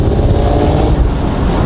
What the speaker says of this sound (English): You get some good exhaust noise, you get some good intake noise.